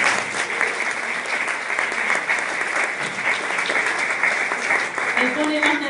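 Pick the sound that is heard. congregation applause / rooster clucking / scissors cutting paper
congregation applause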